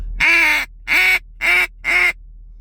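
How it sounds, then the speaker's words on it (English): Four loud, evenly spaced nasal quacks blown on a duck call, each lasting about half a second, heard close and alone. "when you're blowing and trying to quack, you're not going to be going when you just do that in a call"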